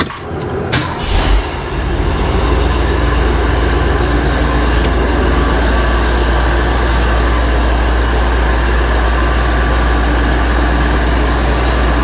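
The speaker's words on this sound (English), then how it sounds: "So let's start the engine." A 50-plus-year-old classic Bricklin car engine fires up after a brief cranking burst, then settles into a loud, steady idle with the A/C compressor running and a constant low rumble throughout.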